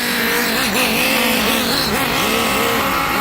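The small nitro engine of a Neo FW06 RC buggy revs loud and close without a break. Its buzzing, high-pitched whine rises and falls as the throttle is pulled and eased.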